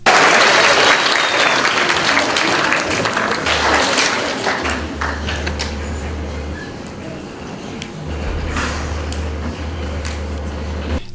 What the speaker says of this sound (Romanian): Spectatorii de toate vârstele prezenți în sală i-au susținut prin aplauze pe concurenți